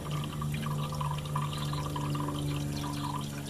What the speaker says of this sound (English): When you're filling up the radiator for the first time, be careful when it gets close to full